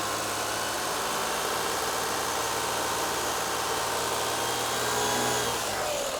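A Lexus ES300 engine with a lean fuel condition runs steadily with a continuous mechanical drone, rising slightly in pitch and intensity toward the end as it revs toward 2,700 RPM.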